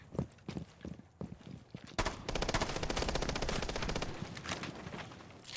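Gunfire in the tactical shooter Rainbow Six Siege: a few scattered single shots, then a sustained rapid automatic burst that rattles on loudly for several seconds, with little talk over it.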